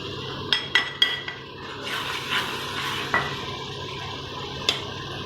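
Spices stirred into a pot of chicken korma with sautéed tomatoes, a spoon clinking sharply against the metal pot several times over a soft, steady sizzle.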